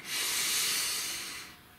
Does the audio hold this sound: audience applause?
no